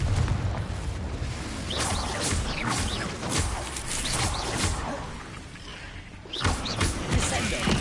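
Confringo blasting spell explosions in a video game, a string of booming thuds and bursts firing in rapid succession with crackling impacts, continuous and fairly loud throughout, with game voices and effects around them.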